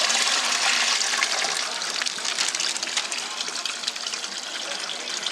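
Water gushes and splashes steadily as an exotic fish is released into a backyard mini pond, a bright, continuous rushing pour that eases slightly toward the end.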